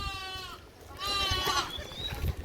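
Sheep bleating in a village flock, several drawn-out harmonic calls overlapping close by with low rustling and movement underneath.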